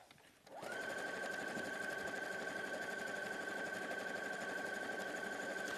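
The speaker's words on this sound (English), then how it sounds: "So I'm going to join those 2 together." Sewing machine stitching a quilt seam, starting after a brief quiet moment and then running steadily with a fast, even mechanical whir and rattle, close and alone.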